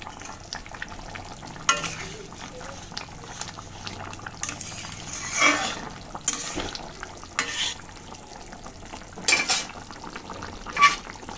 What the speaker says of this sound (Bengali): ভালো করে মিশিয়ে নিলাম